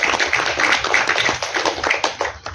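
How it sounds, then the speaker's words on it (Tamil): An audience at the Kadukka film audio launch claps steadily, a dense loud patter of many hands continuing throughout without a break or voices. "ஒரு பெரிய கைத்தட்டல் கொடுக்கணும்"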